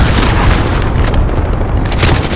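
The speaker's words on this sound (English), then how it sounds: "Allied cruise missile away" A cruise missile strike in a Call of Duty-style multiplayer match, a dense, continuous booming rumble of explosions with crackling debris, loud and close throughout, with no voices.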